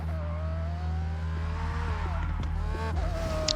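A car drifts in Forza Horizon 6 with a long, steady tire squeal over a droning engine, rising and falling slightly as it slides, loud and close throughout.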